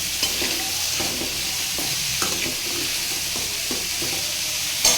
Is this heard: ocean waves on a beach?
no